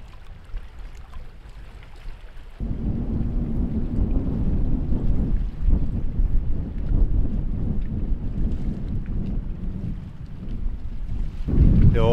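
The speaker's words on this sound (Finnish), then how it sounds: "Tää tuuli aika kovaa" Strong wind at a lakeside campsite by Lake Inari buffets the microphone in a loud, continuous roar after a quieter start, with gusts rising and falling and no voices.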